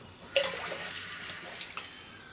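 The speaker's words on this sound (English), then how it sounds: "I'm gonna go rinse the face and I'll come back for the conclusion." Tap water runs steadily into a bathroom sink while a face is rinsed clean of shaving soap after a traditional wet shave, a soft continuous splash with a few brief louder splashes and no talking.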